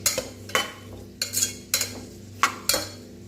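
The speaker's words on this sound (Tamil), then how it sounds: "வெங்காயம் நல்லா பொன்னிறமாக வதங்க வரைக்கும் நல்லா வதக்கிக்கலாம்." Onions sautéed in about four tablespoons of oil for a beetroot kuzhambu gravy, with several sharp scraping stirs of a spoon against the pan in an irregular rhythm over a low, steady background, close and fairly loud.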